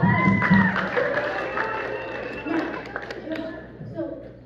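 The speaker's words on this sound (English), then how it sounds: "Big round of applause for Samuel Adams!" Audience applause and cheering at a classroom-style history presentation, a broad wash of clapping and crowd voices that fills the short stretch, with children's shouts mixed into the steady noise.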